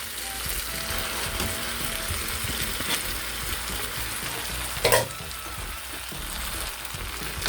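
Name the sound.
pancit bihon noodles stir-frying in pan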